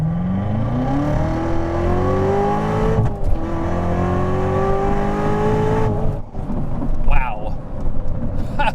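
A C7 Corvette Z06 accelerates hard toward its redline, its engine note rising steadily through the gears with brief pauses at the shifts, loud and close, ending with a light mechanical sound.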